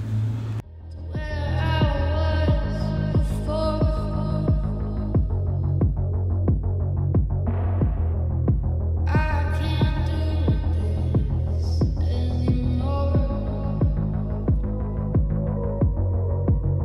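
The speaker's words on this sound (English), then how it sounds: "sew the bottom edge together with a 1 cm seam allowance using a zigzag stitch" A sewing machine runs a zigzag stitch along the bottom seam of gathered bikini top panels, its needle thumping in a fast, steady mechanical rhythm with a low motor hum, close and continuous, starting and stopping briefly partway through.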